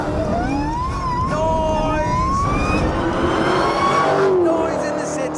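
A Hennessy-tuned Chevrolet Camaro muscle car with a supercharger making about 840 horsepower, revving hard through city streets with a continuous loud, rising and falling engine roar.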